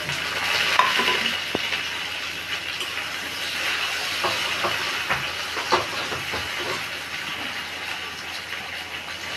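Tomatoes tossed onto fried onions sizzle steadily in a pan, with scraping stirs and small pops over a continuous hiss throughout.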